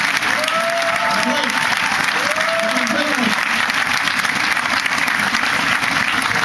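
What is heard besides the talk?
audience applause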